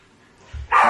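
The landlord's dog lets out a short, close bark, louder toward the end, after a brief faint yip, with no talking.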